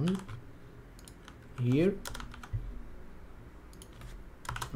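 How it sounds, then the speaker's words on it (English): Typing on a computer keyboard while a script for a Streamlabs OBS counter is entered, a quiet run of soft key clicks under a voice speaking briefly, with a few sharper click bursts near the end. "we're gonna type this"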